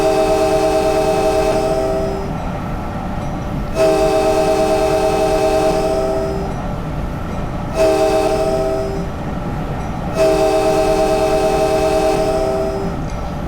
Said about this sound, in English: the new interior horn sound